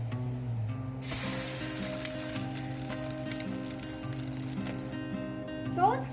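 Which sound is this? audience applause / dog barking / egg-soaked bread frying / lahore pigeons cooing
egg-soaked bread frying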